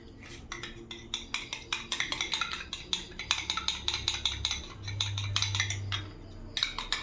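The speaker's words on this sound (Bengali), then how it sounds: "ভালো করে গুলে নেব" A spoon stirs fruit pieces into milk sharbat, clinking rhythmically against the vessel in quick, regular strokes about twice a second, with a soft swish of liquid under the clinks.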